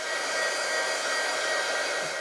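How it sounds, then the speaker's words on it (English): A heat gun blows steadily to dry ink on a page of an Archer and Olive A5 planner, giving a loud, constant close whoosh with no breaks. "Out comes the heat gun."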